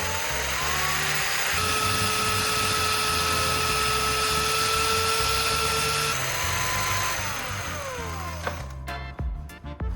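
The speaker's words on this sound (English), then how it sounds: "I will grind one end of the graphite core into a pointed shape to form the welding tip" A graphite core being ground to a sharp point to make a welding tip, giving a steady, loud whining grind with shifting pitch that runs continuously, then breaks into short bursts and clatter near the end.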